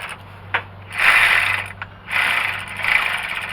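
A socket wrench with a swivel ratchets on fuel pump bolts of a 1980 Dodge D150 pickup, giving close, rapid clicking bursts in two main runs with short pauses between.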